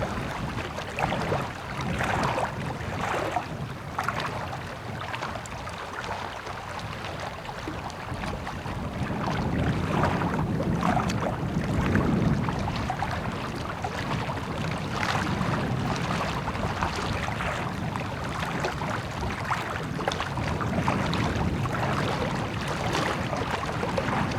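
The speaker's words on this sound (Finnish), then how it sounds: "Tuuli puhaltaa todella purevasti." Steady, biting cold wind roars across the microphone in the wilderness of Vätsäri, Finland, with low rumbling buffets, rising and falling continuously throughout without any voices.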